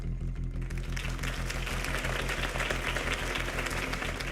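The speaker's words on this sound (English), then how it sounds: "If only Mr. Wayne, my campaign's largest backer, could have heard that applause" Crowd applause after Harvey Dent's campaign speech in a Batman video game: a continuous, dense wash of clapping at a steady level, layered over a low rhythmic pulse throughout.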